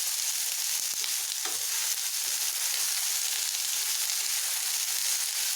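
Bitter gourd fries in a small amount of oil with a steady, dense, close sizzle throughout, broken only by a couple of faint clicks near the start.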